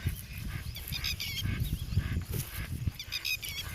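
A duck calls loudly beside water in a village setting. Repeated honking quacks come in short bursts over a faint background, with no voices.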